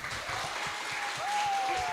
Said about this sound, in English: Let's give her a round of applause for her.